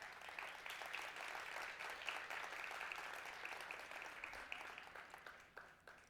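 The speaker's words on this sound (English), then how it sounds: "let's give a round of applause for Vanessa Gibson" An audience applauds the Bronx Borough President, Vanessa Gibson, at a civic event: steady, dense clapping from a crowd that holds for about six seconds at moderate level before easing slightly at the end.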